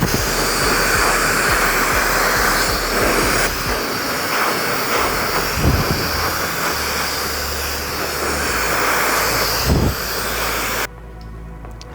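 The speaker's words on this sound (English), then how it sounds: "I'm using the Wahl Pro Vanish blow dryer" A Wahl Pro Vanish blow dryer with a small nozzle attachment runs on medium heat during a brushback taper haircut, a loud, steady whooshing roar held close for about eleven seconds before cutting off.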